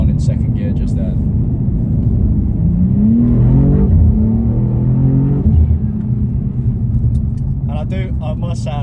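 BMW M2 engine pulling hard in second gear with the throttle nearly flat, a deep rising engine note with a gear-like sweep, heard from inside the cabin, with brief clicks near the end.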